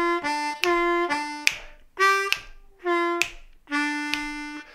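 Blues harmonica playing a lower-octave third-position lick: four phrased, sustained reedy draw notes with audible bends, the 2 draw bent a whole step down before dropping to the 1 draw, played solo and close with short gaps between notes.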